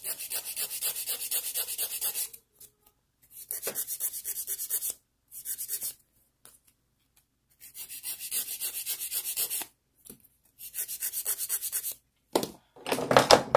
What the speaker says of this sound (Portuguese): E agora a gente vai lixar as laterais da borda livre